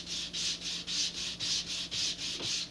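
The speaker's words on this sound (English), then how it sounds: "I am going to just quickly sand the back of this" Sandpaper is rubbed across the back of a laser-cut part from a Rocketarium Gadfly rocket kit in about nine even back-and-forth strokes. The sound is a close, soft, rhythmic scratching with no voices.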